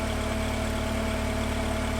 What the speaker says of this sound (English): while we wait for the petrol car to warm up